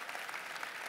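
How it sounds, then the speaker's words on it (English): Steady audience applause at a stage mentalism show, an even wash of many hands clapping at moderate distance with no voices over it. "Give him a round of applause"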